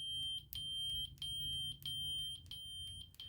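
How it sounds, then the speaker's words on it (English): Steady high electronic beeps from a lightsaber's volume mode, rising in pitch, repeat alongside a continuous tone, with sharp clicks at intervals over a low background hum. "it just changes the pitch of the beep"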